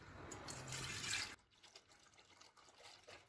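Two litres of milk poured into a cooking pot for rose rabri kheer, a steady liquid pour lasting just over a second, followed by quieter kitchen sounds.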